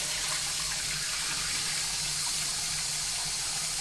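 Tap water gushes steadily into a sink or bowl to rinse rice, a constant full-bodied splashing flow heard alone and close for a few seconds.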